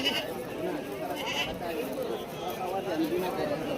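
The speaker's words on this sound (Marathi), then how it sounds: "यांच्याकडे बोकडे वगैरे विक्रीसाठी असतात" Goats bleating amid a busy livestock market at Shirur, with steady crowd chatter and people talking close by throughout.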